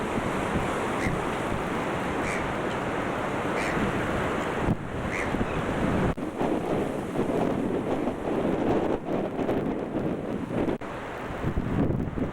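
Ocean waves and wind beside a hotel swimming pool overlooking the sea at the Cape Town waterfront, a steady broadband wash of surf with gusty wind buffeting the microphone throughout, no talking.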